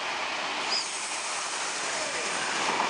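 A suburban electric train pulls away from a station platform with a steady broadband rumble and hiss, a faint wheel squeal rising briefly, close and continuous with no talk.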